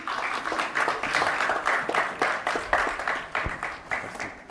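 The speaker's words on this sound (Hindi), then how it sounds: "जोरदार तालियां जितिन के लिए भी" Audience clapping at an award distribution ceremony for a young performer: a moderate, fairly close patter of hands with rhythmic surges, steady for several seconds with no talk over it.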